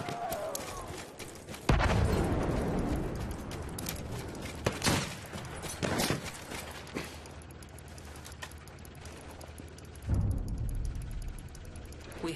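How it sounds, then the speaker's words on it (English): Enemy machine gun fire in Battlefield 1 sounds as a loud, rattling volley at the start, then continues as distant rolling shots and booms over a steady battlefield rumble. "Machine gun, one of theirs."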